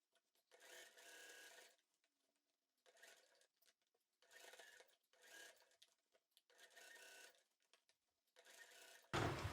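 A sewing machine stitches the lining fabric of a reversible bucket hat in short separate bursts of rapid whirring, quiet and near with pauses between, ending in a sudden louder thump.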